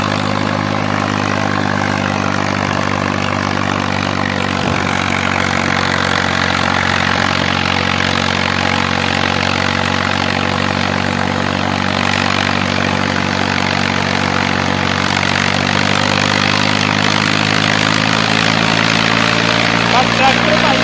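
Ghazi 65hp and Fiat 640 tractor engines labour steadily through a pulling power contest, a continuous deep throbbing drone with layered low harmonics that holds for the whole stretch, loud and close under faint background voices.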